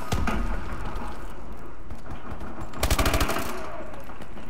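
Automatic gunfire from the video game Call of Duty: Advanced Warfare crackles loudly and continuously, with a dense burst of rapid shots partway through over a busy game soundscape.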